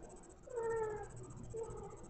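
A pet cat meows indoors, a faint drawn-out meow followed by a shorter second one, heard over quiet room hiss.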